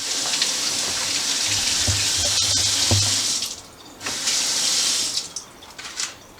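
Tap water running over a head of cabbage being washed for sauerkraut, a close steady splashing stream that briefly drops and resumes with intermittent spatter.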